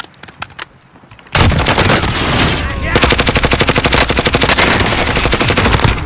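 Gunfire in the Warzone video game: after a few quieter shots, sustained rapid automatic bursts erupt and stay loud and dense, near and overlapping, until the end.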